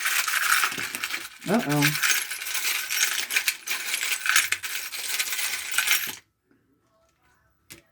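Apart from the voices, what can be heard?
tarot charms being cast and dropping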